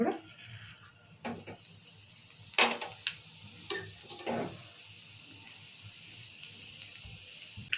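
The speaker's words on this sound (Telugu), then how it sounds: "మిరపగింజలు, ఆవాలు, జీలకర్ర ఈ 3 తాలింపు గింజలు ఇప్పుడు వేసుకుందాము." Chili seeds, mustard and cumin hit hot oil as a tempering for a moong dal with green chillies, giving a soft, steady sizzle broken by a few sharp crackles and pops near the microphone.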